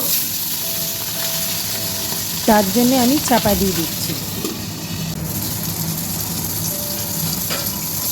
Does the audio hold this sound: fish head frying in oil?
yes